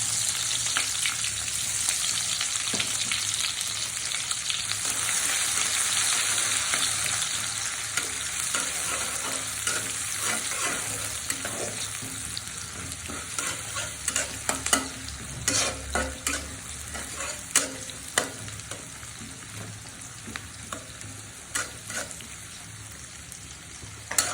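Chopped onion frying and being stirred in a pan of oil, partly reused fish-frying oil, for a tilapia curry: a steady close sizzle with repeated scraping stir strokes that get sharper and more spaced toward the end.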